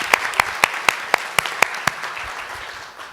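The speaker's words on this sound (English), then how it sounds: "can I clap for that" Audience applause at an urban planning talk in Seattle, heard as about eight sharp, evenly spaced claps, close and clear, fading into quiet room tone.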